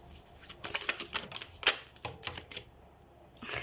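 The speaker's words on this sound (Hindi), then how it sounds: "तो हम सबसे पहले कार्ड शफल कर लेते हैं" Tarot cards are shuffled by hand in a run of quick, crisp riffling and flicking bursts, close and fairly quiet, with no talking.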